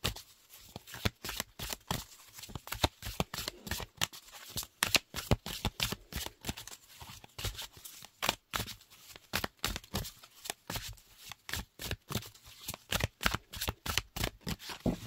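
Oracle cards from a deck called L'Oracle du Soleil Levant being shuffled by hand, a steady run of quick, close riffling slaps and flutters lasting throughout with no talking.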